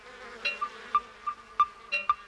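Honey bees around a hive give a steady thin buzz with a series of brief louder passes, about one every half second, close by.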